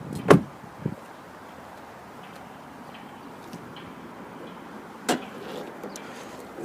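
The heavy hood of a 2012 Toyota Corolla S is handled in quiet surroundings: a sharp metallic clunk, a smaller knock just after, then a long hush before a second solid thump, all fairly close.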